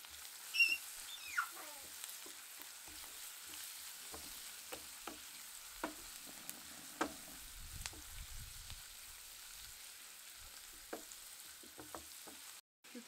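Garlic frying in a pan produces a faint, quiet sizzle with scattered small pops and ticks and occasional utensil scrapes, no speech.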